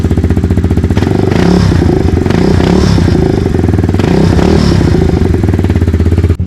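A KAYO TD 110 EFI dirt bike's small 110cc engine revs loudly and continuously up close, its throaty putter rising and falling with the throttle, no voices.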